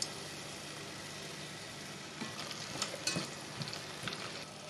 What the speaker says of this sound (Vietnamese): Tiếp tục mình đảo chung lại.